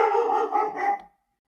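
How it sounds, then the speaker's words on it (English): A dog barks and yelps in a quick, close run of loud, strained calls lasting about a second, then stops, leaving silence. "My dog is yelling."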